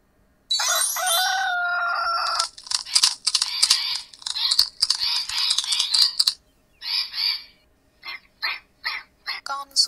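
A rooster crows in a children's animal-learning game: one long, bright crow near the start, followed by several shorter bursts of sound.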